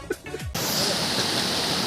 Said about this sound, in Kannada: ಒಂದು ಹಿಡನ್ ವಾಟರ್ ಫಾಲಿಗೆ ಬಂದಿದ್ದೀವಿ